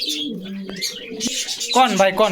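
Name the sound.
pigeons cooing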